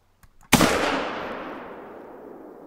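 A single loud gunshot from a small-calibre rifle in theHunter Call of the Wild hunting game, sharp close crack after a faint click, then a long reverberant decay rolling across open terrain.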